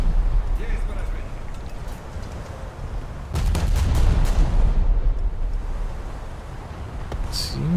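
Battleship guns in World of Warships firing on destroyers: a dense, rumbling barrage of booms and crackling impacts, swelling heavily midway, with in-game radio voices and commentary over the din.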